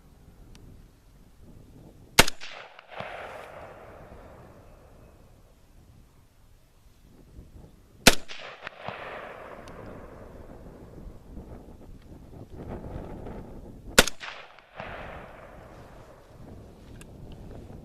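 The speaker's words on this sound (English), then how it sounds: "So we'll shoot 3 more and try it again." Three loud AR-15 rifle shots fired while sighting in at a range, spaced about six seconds apart, each a sharp crack followed by a long rolling echo, with wind noise between them.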